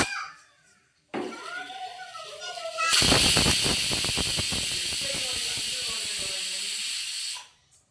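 A closed pressure cooker holding chicken biryani releases a loud, steady hiss of escaping steam for several seconds before it cuts off abruptly, with brief clattering and scraping beforehand.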